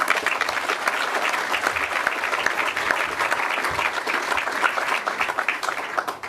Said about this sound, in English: So, round of applause to Lynn